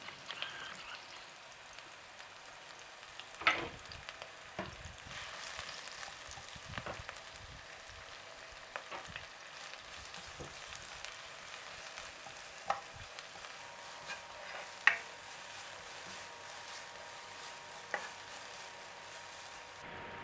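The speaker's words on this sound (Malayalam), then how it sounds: "അതിനുശേഷം ഇതിലോട്ട് ഒരു വലിയ ഉള്ളി ചെറുതായി കനം കുറച്ചരിഞ്ഞത് ചേർത്ത് കൊടുക്കണം." Thinly sliced large onion frying in ghee in a pot, a soft continuous sizzle with scattered crackles and occasional stirring taps, fairly quiet and without talking.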